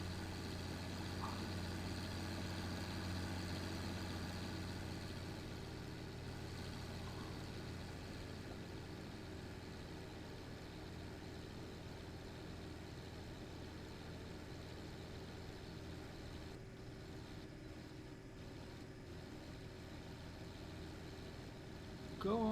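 Steady low drone of a tractor engine idling and running in a farming video game, a continuous hum lasting throughout at moderate level with little change.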